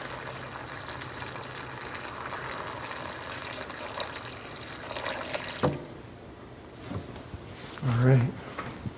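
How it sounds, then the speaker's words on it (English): Hot water from a kitchen tap runs into a cup, a steady trickle and pour under a low background hum, ending in a brief louder gush near the end, with no voices. "We have hot water immediately out of the tap right here."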